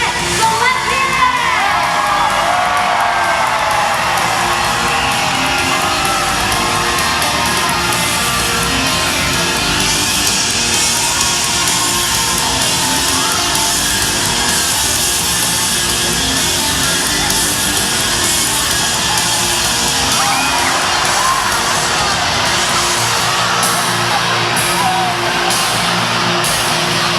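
A large crowd screams and cheers at a SeaWorld San Antonio orca show, a loud sustained roar of shrieking and whooping voices, children among them, with splashes and bangs mixed in.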